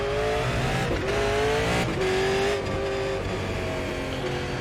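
A Super Late Model race car at Hickory Motor Speedway in iRacing roars through repeated revs and upshifts, the engine pitch climbing and dropping several times, loud and close with no talk.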